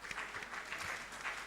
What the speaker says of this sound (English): Clap like we are health people now.